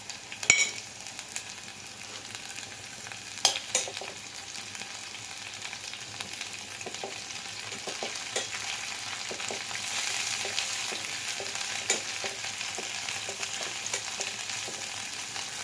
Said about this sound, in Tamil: வெங்காயம் நல்லா வதங்கணும். வெங்காயம் வதங்குறதுக்கு உப்பு சேர்த்துக்கலாம்.